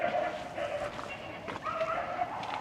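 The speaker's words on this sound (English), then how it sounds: "peaceful sound of barking dogs as usual" Several dogs yip and bark in short bursts at a middle distance, overlapping and uneven, with a whiny edge to some calls, heard from the walled gardens of Astley Hall, Chorley.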